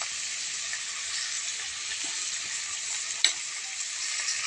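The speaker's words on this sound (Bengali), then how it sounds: "ওলকপি দিয়ে আরও কিছুক্ষণ আমি ভেজে নেব" Potato and kohlrabi fry in a pan with a steady, close sizzle and hiss, broken once by a brief clink partway through.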